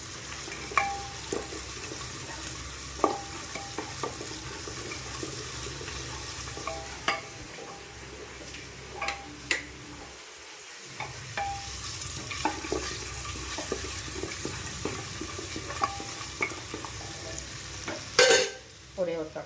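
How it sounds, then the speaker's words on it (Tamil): Onions for a vegetable biryani sauté in a pan, a soft continuous sizzle broken by occasional spoon clinks and stirring scrapes, fairly quiet and close with no talking. "நல்லா வதக்கிக்கலாம்."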